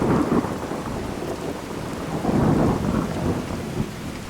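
Steady rain pours across a rainy forest town in the Skyrim video game, with a low rolling rumble of thunder swelling midway, a dense continuous wash of sound with no voices.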